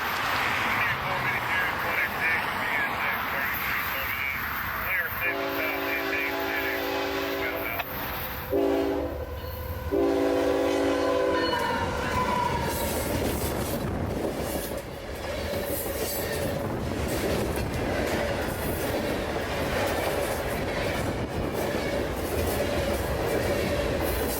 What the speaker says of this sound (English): northbound train Q452 is racing up the hill into downtown. Listen closely as he passes.